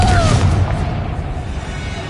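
A Confringo blast spell explodes in the video game Hogwarts Legacy, a loud booming burst with low rumble that decays into a lingering roar of battle noise over about two seconds.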